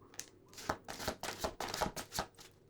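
Tarot cards being shuffled for a Leo reading: a run of crisp riffling bursts, roughly seven quick flutters in under three seconds, close and fairly quiet, with no voices.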